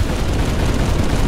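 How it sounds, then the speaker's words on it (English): Explosions in the video game Halo Reach rumble in a thick, continuous, loud roar, a sustained wall of blast noise with no pauses. "Oh, there's explosions happening."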